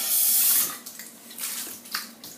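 Homemade bulk power food drink poured from a container, a steady liquid stream strongest at the start and then turning into softer, uneven splashing and trickling for a couple of seconds.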